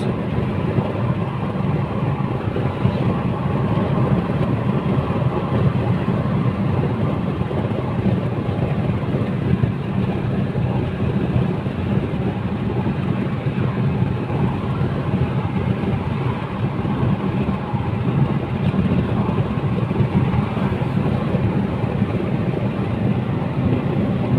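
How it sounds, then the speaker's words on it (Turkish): A Fiat Egea 1.4 (95 HP) climbs a steep ramp in fifth gear at full throttle, its engine a loud, steady low drone mixed with road and wind rumble, with no pauses. "Vallahi dip gaz tırmanıyorum arkadaşlar hiç acımadan."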